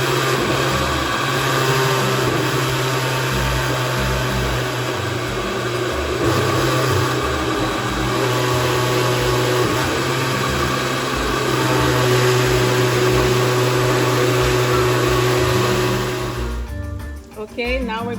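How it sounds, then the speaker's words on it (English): A kitchen blender whirs continuously at close range, churning vegetables for a Haitian legume stew, its steady motor drone running almost the whole time before cutting off near the end. "In this case, I'm using a blender,"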